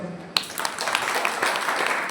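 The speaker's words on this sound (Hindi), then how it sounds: "ताली बजाओ इसका।" Students in a class break into applause after a sudden sharp onset, a moderate wash of scattered claps that carries on steadily with some voices mixed in.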